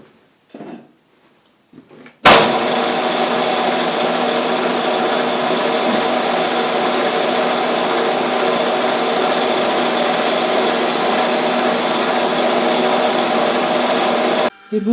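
A metal part takes a finishing pass on a machine: a steady, fairly loud mechanical whir with a constant tonal hum runs unbroken for about twelve seconds after a quiet start, then stops abruptly.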